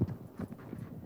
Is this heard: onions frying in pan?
no